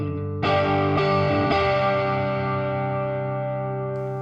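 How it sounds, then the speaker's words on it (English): An electric guitar plays through a digital reverb pedal set for a short, room-like space. Three plucked chords are struck in quick succession, then left to ring, and the tail decays gradually into near silence. "This reverb pedal doesn't have a length adjustment to it, so sounds like it's trying to emulate more of a room than anything that's gonna be particularly long"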